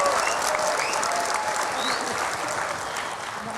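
Audience applause at a live event in Jakarta, a sustained roomful of clapping that stays even and slightly fades toward the end.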